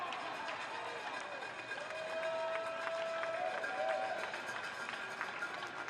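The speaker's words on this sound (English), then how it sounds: "Now gets a round of applause for the effort." Crowd applause at a soccer match between Tacoma Defiance and Las Vegas Lights FC, a faint, distant spread of clapping and murmur across a stadium, with a whistle-like tone in the middle and commentary over it.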